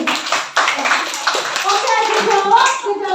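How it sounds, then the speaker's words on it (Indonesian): Children clap hands for two classmates in a classroom, a ragged burst of claps that carries on for about three seconds with young voices chattering throughout. "Beri tepuk tangan untuk Fiswa sama Alvin"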